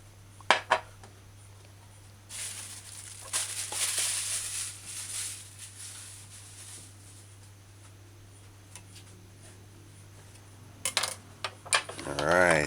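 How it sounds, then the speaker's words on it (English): A utensil stirs the ingredients of a jerk dipping sauce, with faint scraping and several clinks and taps against the container, some near the start and a cluster near the end, over a low steady hum. "so you just stir in the ingredients"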